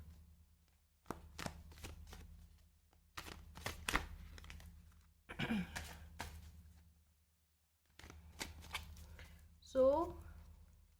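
A tarot card deck being shuffled, in bursts of close riffling and crisp card flicks separated by short pauses, with a brief higher-pitched squeak near the end.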